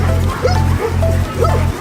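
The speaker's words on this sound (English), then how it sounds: "Not get eaten by a dog." A dog barks in a quick run of sharp, loud yaps, several close together over a low steady hum.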